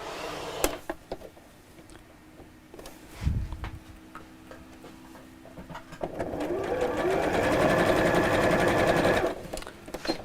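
Sewing machine stitching fabric in quick bursts, with a rapid mechanical chatter that builds into a longer steady run toward the end, fairly near, with light ticks and handling noises between.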